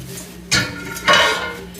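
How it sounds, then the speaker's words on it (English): Non-stick cast iron pans clank together in two distinct metallic knocks about half a second apart, each ringing briefly before fading, close and fairly loud with no talking. "These are my non-stick cast iron."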